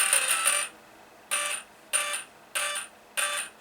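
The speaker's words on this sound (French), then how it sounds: "On a bien les 4 bips et le bip de validation" Five electronic beeps from an Arrma Kraton V5 RC car starting up, the first four evenly spaced and separated by short pauses, bright and close, followed by a confirmation tone of similar length.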